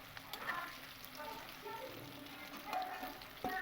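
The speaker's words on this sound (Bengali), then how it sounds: "একটু কড়া করেই আমি মাছগুলো ভেজে নেব" Pieces of katla fish fry in hot oil with a soft, steady sizzle and crackle, faint and continuous, with a few sharper pops.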